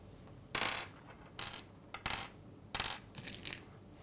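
Coins dropped one at a time onto a surface while being counted out for a classroom division lesson, a string of bright metallic clinks in irregular bursts, close and fairly quiet with no talking.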